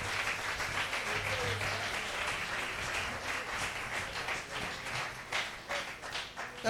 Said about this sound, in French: Put your hands together for Lord Jesus Christ.